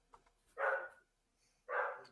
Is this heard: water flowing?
no